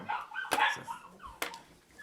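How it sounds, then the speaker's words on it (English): Puppy upstairs giving sharp yelps and whimpering barks, a few short bursts in quick succession, muffled and middle-distance with no talk over it. "Sounds like there's a fucking puppy dying upstairs"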